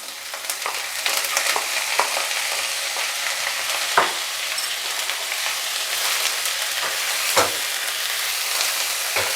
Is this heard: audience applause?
no